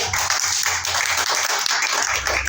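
A church congregation claps steadily together, a dense continuous patter of many hands filling the room for a couple of seconds.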